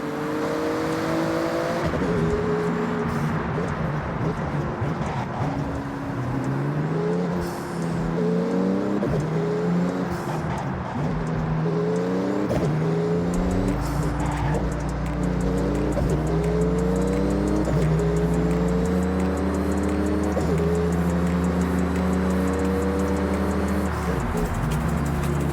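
A Porsche in the Forza Horizon 6 racing game blasts through a speed zone, its engine roaring loud and continuous through repeated revving climbs and gear shifts, with a deep rumble settling in low.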